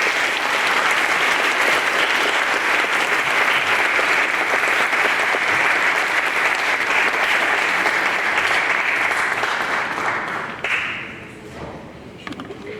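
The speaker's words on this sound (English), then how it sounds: "We applaud you and we celebrate you." Sustained, dense applause from a large audience at a physical therapy white coat ceremony, loud and steady for about ten seconds before thinning out toward the end.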